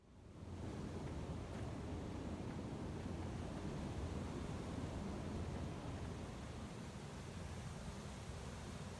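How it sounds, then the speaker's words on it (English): Steady rushing water from a waterfall in the video game Techtonica, a continuous broadband roar that stays loud and even throughout with no voices. "Yeah, we need to go up this waterfall."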